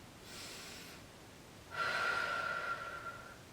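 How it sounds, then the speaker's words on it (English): A deep breath during a Pilates reformer exercise, with a soft inhale followed by a longer, louder exhale that carries a faint whistling tone, close and alone. "We're gonna take a breath here."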